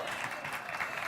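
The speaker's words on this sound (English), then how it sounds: "Give her a round of applause." A studio audience at a branding brainstorm session applauds a guest, a faint, steady wash of many hands clapping at a distance.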